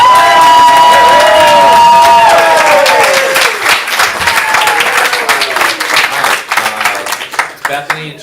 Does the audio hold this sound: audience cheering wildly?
yes